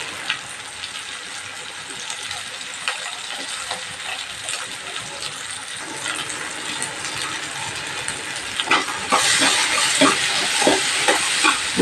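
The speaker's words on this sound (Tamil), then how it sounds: "இதையும் போட்டு நல்லா கத்திரிக்காய் வெந்து வர வரைக்கும் நம்ம நல்லா கொஞ்சம் நேரம், ஒரு 5 நிமிஷம் சிம்மில் வச்சு நல்லா வதக்கி விடணும்" Cut eggplant sautés in hot oil for kathirikai ennai kulambu, a steady close sizzle broken by scraping and clinking stirs that grow busier and louder toward the end.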